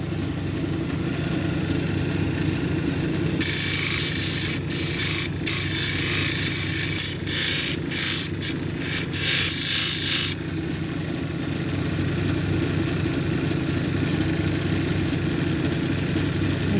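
A stone cabochon grinds against a 280 grit wheel, with a steady motor hum running throughout and a bright, hissing rasp of stone on the wheel in the middle stretch. Close and continuous, with no speech.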